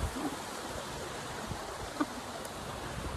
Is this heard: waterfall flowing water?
yes